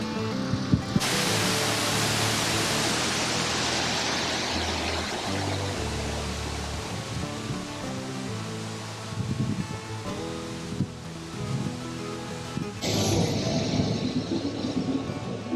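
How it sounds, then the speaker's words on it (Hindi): A mountain waterfall beside the road to Adi Kailash roars as a broad, continuous rush of falling water, loud and steady throughout with brief shifts in intensity, and no one speaking. "तो देखें अभी आपने शानदार नज़ारे यहाँ पर एक वाटरफॉल का"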